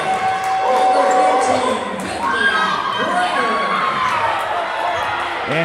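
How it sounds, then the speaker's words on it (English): Teammates clap and cheer during a high school girls' regional volleyball match in a gym, with crowd noise, shouts and whoops, a ball thumping on the floor, and an announcer talking over the commotion. "A round of applause from her teammates."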